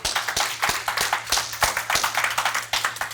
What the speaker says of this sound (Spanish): Dele un fuerte aplauso a Give a Dios. hand Amén. clap to